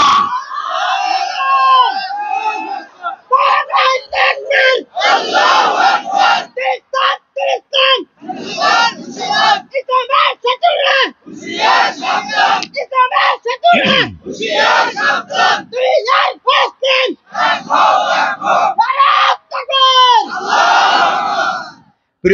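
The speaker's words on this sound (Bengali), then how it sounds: "দুহাত করে স্লোগান দিয়ে আল্লাহ দেখান" A huge crowd at an outdoor religious gathering chants slogans in loud, rhythmic unison bursts, roaring responses repeated again and again with short gaps between each shouted phrase.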